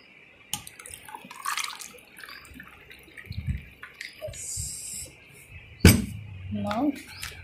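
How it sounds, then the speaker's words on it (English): Water is poured into a lemon mint mojito, a soft splashing trickle with a few clinks from the glass, and faint voices in the background. "Then let's add water."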